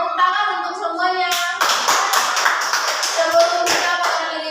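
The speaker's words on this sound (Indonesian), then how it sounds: "tepuk tangan untuk semuanya." A class of children claps together during a lesson, a brief voice first, then a burst of dense, sustained hand clapping that fills the room loudly and steadily until the end.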